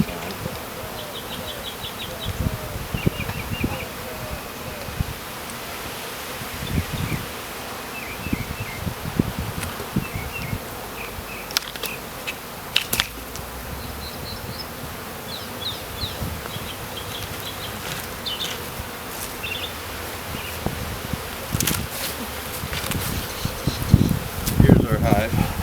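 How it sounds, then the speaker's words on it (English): Honey bees buzz angrily around an opened hive during a removal job, a steady swarm hum with scattered insect whines up close, occasional rustling and bumps, and someone talking intermittently over it. "These are already kind of bitchy bees."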